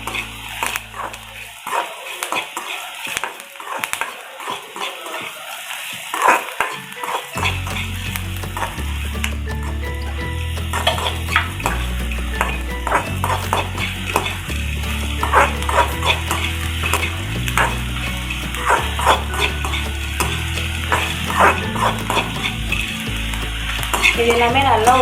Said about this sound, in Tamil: இது எல்லாமே நல்லா ஒரு 2 மினிட்ஸ்க்கு வந்து ஃப்ரை பண்ணிக்கோங்க